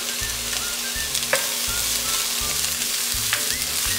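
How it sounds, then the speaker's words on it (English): Garlic and chopped green onion sizzle in a pan while being stirred continuously, a close, steady frying hiss under rhythmic scraping strokes of a spatula, with no voices. "You do not want to overcook your garlic, so keep mixing."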